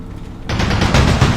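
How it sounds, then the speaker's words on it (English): An anti-aircraft gun in the Combat Mission war game fires on a concrete bunker pillbox, a loud close burst of rapid automatic shots that cuts in abruptly after a brief quiet moment. "I'm slightly repositioning the AA gun, continuing to fire onto the bunker"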